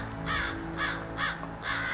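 Crows diving at owls give four harsh caws in steady succession, loud and fairly close, over a low background hum with no talking.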